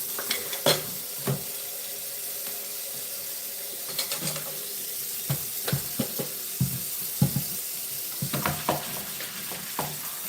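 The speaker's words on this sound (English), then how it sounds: "I'm gonna start some water in here for my dishes." A kitchen tap runs into a sink filling with water for washing dishes, a steady close rushing hiss broken by scattered clinks and knocks of dishes.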